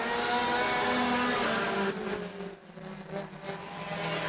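Pure stock race cars on a racetrack, engines roaring loudly as a pack goes by, with revving motor tones that dip briefly midway and then swell again, no talking over them.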